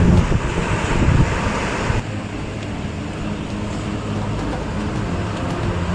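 Steady rushing water of a river in rainy-season flow, with broadband wind buffeting the microphone, louder for the first two seconds, then a continuous flowing wash.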